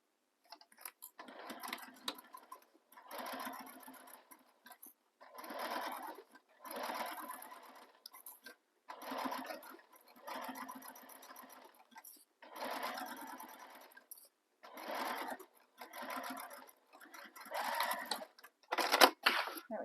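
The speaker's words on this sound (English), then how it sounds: "now we're going to top stitch this top edge using the seam allowance given in the pattern and using your favorite top stitch length" A sewing machine top-stitches along the top edge of a handbag in a series of steady whirring runs, each a few seconds long, broken by short pauses, close and fairly quiet.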